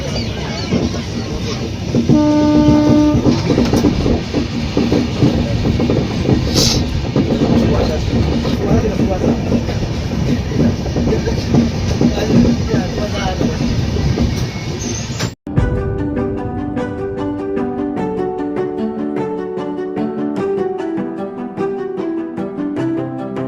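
A passenger train on the way to Ghatshila runs with a steady loud rumble and rhythmic rail clatter, overlaid by a sung or recited voice for most of the stretch, before the sound cuts to music.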